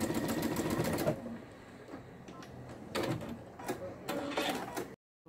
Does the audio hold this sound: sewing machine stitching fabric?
yes